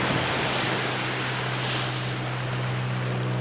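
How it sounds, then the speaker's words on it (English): Continuous broadband roar of waves washing onto a Lake Michigan shore at Norton Shores, steady and fairly loud, with a low rumble beneath and no talking. "The only thing I can hear during our walk is the waves crashing."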